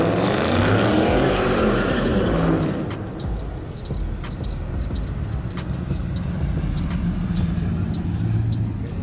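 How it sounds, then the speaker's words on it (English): A muscle car, apparently a Dodge Charger Daytona Scat Pack 392 or a Mustang, roars loudly through a burnout. Dense engine noise and tire screech fill the first few seconds, then settle into a steady, slightly quieter rumble. "I'ma just do a burnout."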